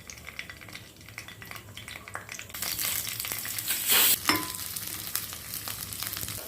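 Tamarind and vegetable peel sautéing in a pan for chutney: a steady sizzle with scraping stirs and the clink of a spoon against the pan, which swells louder midway with a brief sharp burst.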